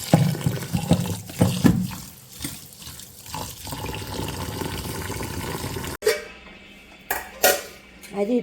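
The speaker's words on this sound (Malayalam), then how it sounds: "ഞാൻ അരി അങ്ങ് ഇട്ടേക്കും അരി ഇടട്ടെ അരിയെല്ലാം ഇട്ടു" Rice is poured into water in a cooking pot in a home kitchen, making a steady watery rush and splashing, followed by a few sharp metallic clatters.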